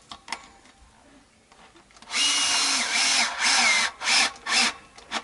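A power driver sinks wood screws to set the neck on a Vintage Icon V6 guitar. Several loud, whirring bursts follow a quiet stretch, each lasting under a second.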